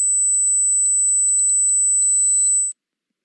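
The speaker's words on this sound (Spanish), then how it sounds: "Ahora vamos a escuchar un sonido de 8000 Hz, 8 kHz." A steady high-pitched 8000 Hz sine test tone plays alone and continuously for about two and a half seconds, then cuts off abruptly into silence.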